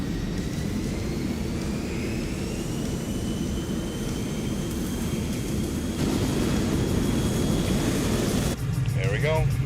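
An F-14 Tomcat's jet engines roar steadily during a simulated takeoff in Microsoft Flight Simulator, a loud continuous broadband rumble with a rising whine, building slightly toward the end, under a speaking voice.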